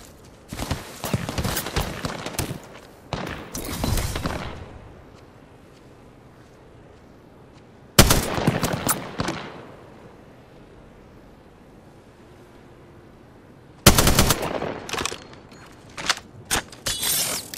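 Video-game gunfire in three loud bursts of rapid crackling shots, separated by quieter stretches of low ambient rumble and wind-like hiss, with no talk.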